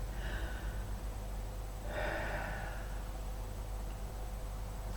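A deep breath taken during a tapping session, a long inhale and a second fuller intake of air, close and soft, with no talking.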